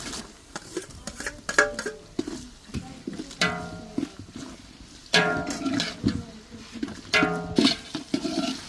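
Onion sautéing in a pan until transparent, with intermittent scraping and stirring strokes of a spatula against the pan over a soft, low sizzle, close and moderately loud.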